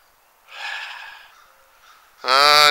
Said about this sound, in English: I'm trying to pick up that crow.